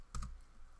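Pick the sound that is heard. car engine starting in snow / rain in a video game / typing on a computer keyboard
typing on a computer keyboard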